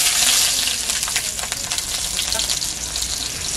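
Small onions hit a hot kadai and fry with a loud, close, hissing sizzle that is strongest at first and then settles into a steady crackle, with no talking.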